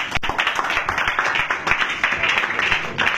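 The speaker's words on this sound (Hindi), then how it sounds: "फिर से एक बार जोरदार ताली यीशु के नाम।" Church congregation clapping loudly and steadily at a Christian worship service, dense continuous applause filling the room with voices mixed in.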